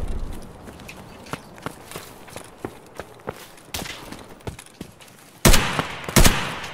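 Gunfire in Escape from Tarkov on the Customs map, starting as a string of sharp single shots at steady intervals and ending in two loud, close bursts.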